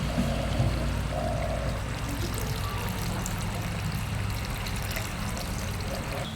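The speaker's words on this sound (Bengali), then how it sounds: "এবার জল দিয়ে দেবো" Water pours into a pan of Bengali egg curry (dim kosha), a steady soft trickle and splash running throughout at low level with no voices.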